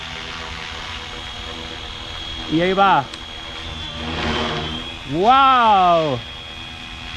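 A Flywing FW450L V3 RC helicopter lifts off on its first flight, its rotor and motor pitch rising sharply in two loud surges over a steady whine, with someone speaking excitedly in Spanish between them.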